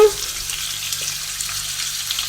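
Shiitake mushrooms frying in a pan with prawns, a soft, steady hiss of sizzling oil that carries on evenly throughout, with no talking.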